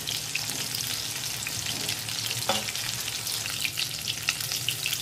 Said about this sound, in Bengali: মাছ আমার ভাজা হয়ে গেছে